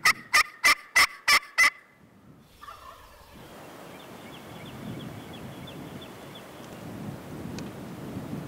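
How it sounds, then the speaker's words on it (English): A wild turkey gobbles from down a draw on Nebraska public land during a spring hunt, a loud rapid burst of five sharp gobbles followed by quiet outdoor wind. "First time I called, gobbled farther down the draw."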